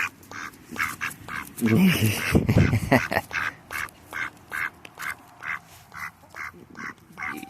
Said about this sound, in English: silly duck. Silly duck.